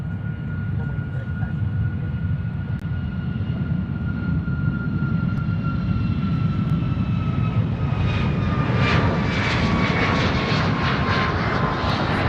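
Atlas Air Boeing 747 jet on approach to a parallel runway at Honolulu airport, a steady, loud engine roar with a slowly falling whine throughout, heard at a distance in an outdoor setting.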